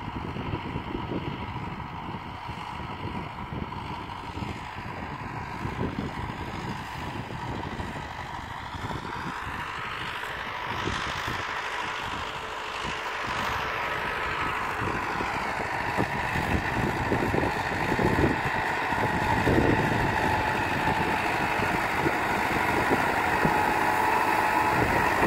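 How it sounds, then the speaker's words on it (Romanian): A tractor engine approaches across dry, hard farmland, a steady rumbling drone that grows louder and closer, heard alone without talk. "Uitați, vine și tractorul."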